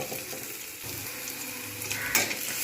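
Onion browns in a frying pan for a banana stem stir fry, producing a steady, moderately quiet sizzle with a few light stirring scrapes and a brief metallic clink near the end.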